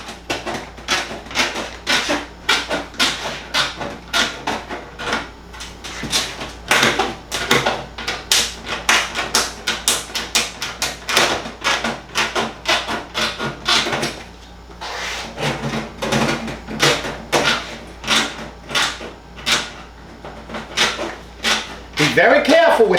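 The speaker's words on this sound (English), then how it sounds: "I'm going to get my snips in here, and I'm going to cut out" Metal snips cut an oval out of a metal flue pipe for a Rinnai Demand Duo R series water heater install, giving rapid, loud, close crunching snips in uneven bursts with a short pause midway.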